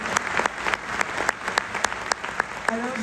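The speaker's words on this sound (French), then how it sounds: "Merci beaucoup, vous restez avec nous et on vous applaudit encore." Applause from an audience at a New Year's ceremony at Amiens town hall, heard as a room of individual sharp claps in an uneven rhythm, with a voice beginning to speak just before the end.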